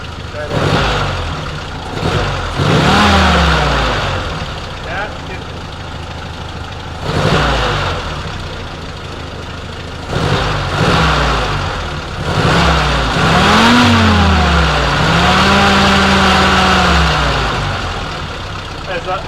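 A Jeep M38A1 engine is revved during a tune-up, rising and falling in repeated bursts over a rough idle, with voices talking nearby.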